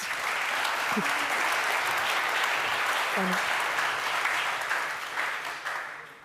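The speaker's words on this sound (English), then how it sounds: "Please, a round of applause for the two panelists." Audience applause for two panelists at a retail and marketplace business talk, a steady wash of clapping from a crowd filling the room throughout and tapering slightly at the end, with brief voices underneath.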